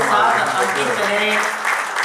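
An audience at the Zero Mile Icon Award function applauds steadily for about two seconds while a voice carries on over the clapping.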